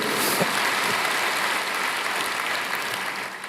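A church congregation applauds together during a Sunday worship service, a dense, steady wash of clapping that fills the room and holds strong before easing slightly at the end.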